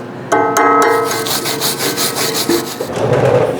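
Slag from a 7018 weld bead chipped and scraped off metal during a root ripper repair, a loud close scraping rasp with a few quick strikes, no talk.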